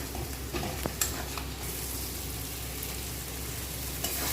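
A spice paste with turmeric and salt fries in oil in a pan while being stirred for a spicy country duck curry, a steady close sizzle broken by a few sharp utensil knocks and scrapes, no talking.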